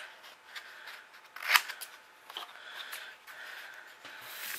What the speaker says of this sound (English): And I'm just going to go ahead and cut it out.